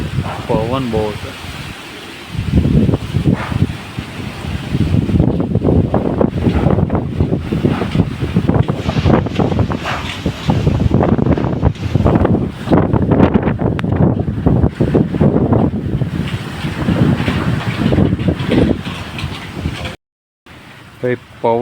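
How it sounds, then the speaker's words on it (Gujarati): Strong storm wind with rain over a mango orchard buffets the microphone in loud, continuous gusty roars, dropping out briefly near the end. "પવન બહુ છે."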